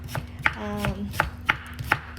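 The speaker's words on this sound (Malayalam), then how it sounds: "ഈ ഉള്ളി അരിയുന്ന സമയത്ത് കണ്ണ് കത്താതിരിക്കാൻ വേണ്ടി ഉള്ളി വെള്ളത്തിലിട്ട് വെക്കാം" A sharp knife chops onions on a cutting board, five or six distinct strikes at an uneven pace, close and clear with a faint hum underneath.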